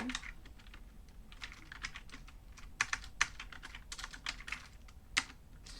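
Fingers type on a newly swapped computer keyboard while writing C# code, producing close, quick bursts of clacking keystrokes with brief pauses between runs and no one speaking.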